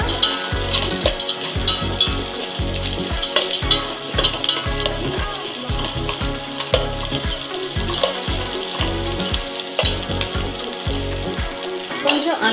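Vegetables for a veg biryani frying in a pan while being stirred, a continuous loud sizzle broken by repeated rhythmic scraping and tossing strokes, close up, with no talk.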